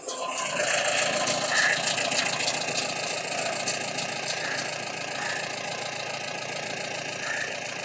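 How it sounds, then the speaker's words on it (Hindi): A Mahindra Bolero Maxi Truck BS6 engine idles unevenly just after starting, with a loud, steady mechanical drone that runs unbroken from start to finish. "देखो इंजन पूरा हिल रहा है, अभी अभी स्टेबल नहीं है इंजन"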